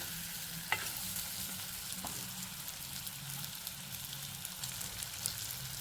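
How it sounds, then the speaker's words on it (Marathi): Raw tomatoes cook in oil with fried spices, producing a soft, steady sizzle with occasional stirring clicks and scrapes, heard up close and fairly quiet. "या स्टेजला टोमॅटो तेलात चांगले शिजवून घ्यायचे आहे"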